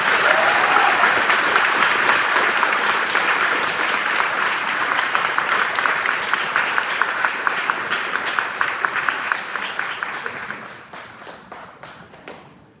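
Elementary school audience at a fourth grade celebration claps for students just named, a loud full burst of applause that thins into scattered individual claps and fades out.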